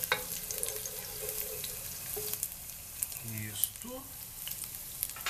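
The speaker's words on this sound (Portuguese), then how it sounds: "3 dentes de alho, bem picadinhos. Vamos deixar eles dourar um pouquinho." Three cloves of finely minced garlic frying in a pan: a steady, soft sizzle close by, with a brief spoken word and a short vocal sound partway through.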